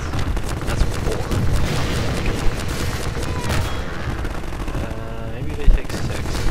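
Rocket rounds fired in the Half-Life 2 video game, a dense, continuous barrage of loud booming blasts and gunfire, with one heavier impact near the end and faint speech underneath.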